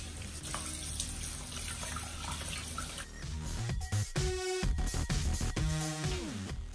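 Running tap water pours over frozen snails being rinsed in a kitchen sink, a steady splashing stream that shifts and gurgles as the snails are moved under it.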